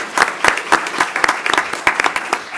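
A few people clap at a city commission meeting, sparse, uneven claps close by rather than a full crowd, continuing for a couple of seconds.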